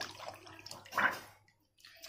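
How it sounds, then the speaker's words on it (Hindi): Water sloshing and splashing as an etched brass plate is set into a container of plain water, with a brief louder splash midway, fairly close, then quiet. "अब इसे नॉर्मल पानी में डाल दिया है।"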